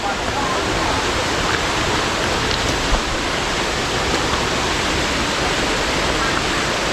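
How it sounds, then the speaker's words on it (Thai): A waterfall on a forest hiking trail, a loud, constant, dense roar of falling water close by, steady throughout with no breaks. "มันก็สวยอยู่นะมันหล่นลงมาจากทางนั้นอะน้ำอะ"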